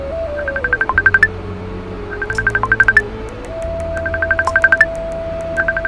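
A phone sounds repeated bursts of rapid electronic beeping in short rhythmic groups, loud and close, over a sustained synthetic tone with no talk.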